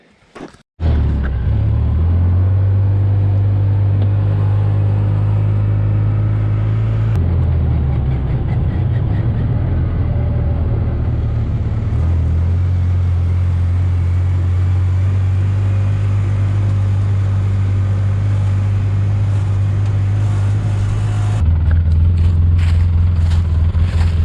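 A Ranger utility vehicle drives around rural property after storm damage, its engine starting and then droning loudly and steadily from close by, with shifts in pitch as speed changes and rattling from the ride.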